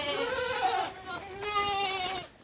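A Sirohi goat on a Rajasthan goat farm lets out two drawn-out, wavering bleats close by, one after another.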